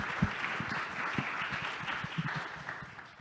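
Audience applause at a fintech conference session on stage, a steady dense wash of clapping with a few sharper claps standing out, moderately loud and continuous throughout.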